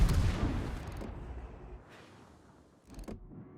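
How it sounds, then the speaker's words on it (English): Heavy ship guns fire in World of Warships, a loud booming volley at the start that trails off into rumble, then a second, quieter salvo near the end. "Now he's shooting the Leander."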